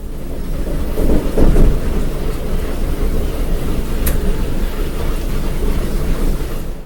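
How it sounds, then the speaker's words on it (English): Rumbling passage of a Rock Island commuter train meeting and passing a freight train near Joliet, heard from the rear car: a steady, loud low roar with rail clatter throughout and a heavier surge early on. "Roger rides the rear of a Rock Island commuter train as it meets and passes a freight near Joliet"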